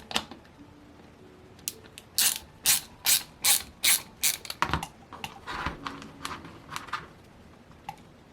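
Someone unscrews a part on a Saito FA-300T model engine, giving a run of about eight sharp ratchet-like clicks in steady rhythm, close and fairly loud, with a few scattered clicks and quiet handling noise after.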